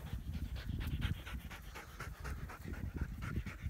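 A dog pants hard after playing catch, fast rhythmic breathy huffs close to the listener, steady and continuous throughout with no talking over it.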